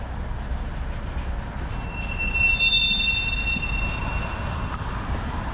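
Freight train wagons roll past in Austria, a steady broadband rumble of heavy rail cars with high metallic wheel squeal rising in the middle, continuous and fairly close, with no speech.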